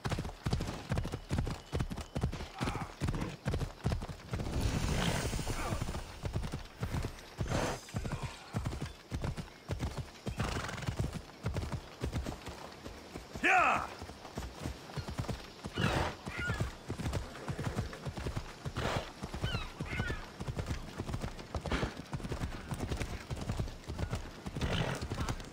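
Steady clip-clop of horse hooves trotting along in Assassin's Creed Odyssey, loud and close, with a brief whinny partway through and a short scrape of other noise.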